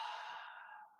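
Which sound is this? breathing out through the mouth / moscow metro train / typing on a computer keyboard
breathing out through the mouth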